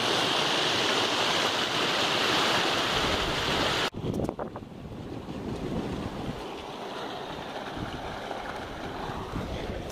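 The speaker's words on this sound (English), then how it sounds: "That's some amazing running water." Water rushes steadily along a creek in a loud, dense wash with gusting wind noise. The roar is strongest at first, drops abruptly after a few seconds, then continues more softly to the end.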